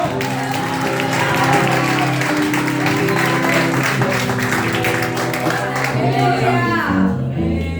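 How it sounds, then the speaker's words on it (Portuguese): A church congregation applauds during a deliverance worship service, with a continuous wash of clapping over sustained music and voices, fading out near the end. "E se você crê, aplauda o nome do Senhor."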